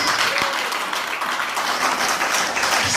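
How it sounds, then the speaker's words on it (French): Loud, dense applause from a church congregation, a continuous wash of many hands clapping that fills the space and holds steady throughout. "Acclamez très fort."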